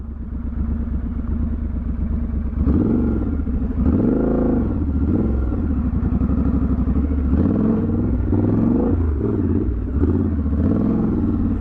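A Triumph Scrambler 1200 XE and a Honda CRF250 Rally drone steadily and loudly throughout, rising and falling slightly as they ride over rough offroad ground, with no talking.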